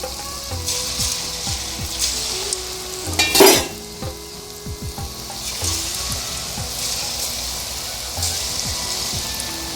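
Wheat bonda batter dropped in small portions into hot oil, crackling and sizzling continuously up close, with light stirring and a brief louder splash of bubbling partway through.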